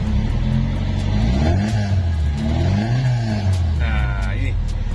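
A Fiat Mirafiori fitted with a racing exhaust revs up twice, rising and falling low-pitched roars close up over a rumbling idle, with a faint whistle-like whine near the end.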